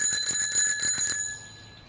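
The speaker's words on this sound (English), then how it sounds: "Every bike must have either a horn or a bell." A bicycle bell rings rapidly, about eight bright metallic dings close by, then a single ringing tone fades away over the last half second.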